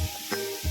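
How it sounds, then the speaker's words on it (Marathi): Tomatoes go into a hot frying pan with potato curry, giving a short burst of sizzling and a quick stir, close and moderately loud. "आता त्याच्यामध्ये टोमॅटो टाकूयात आपण"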